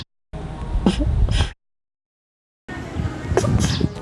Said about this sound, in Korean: 밥을 잘 먹은 거북이가 재채기를 합니다.